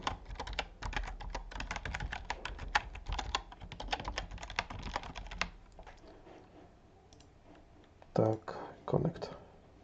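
Rapid keystrokes on a computer keyboard while a root password is entered to log into an XCP-ng server, a dense run of clicks for about six seconds, then sparse taps and a couple of louder bumps near the end.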